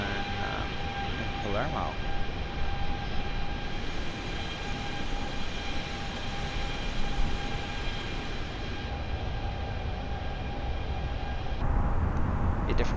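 An A32NX airliner departing Palermo, Sicily, in a flight simulator, with a steady, loud broadband engine roar and tonal whine throughout and a brief spoken word near the start.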